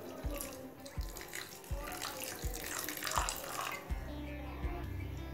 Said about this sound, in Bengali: এবার জল দিয়ে চিড়েটা ভিজিয়ে রাখবো।